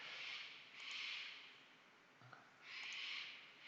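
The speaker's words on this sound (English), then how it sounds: "that bird's not very friendly for the recording" A bird outdoors gives two rasping, hissing calls separated by a short pause, fairly faint over quiet background.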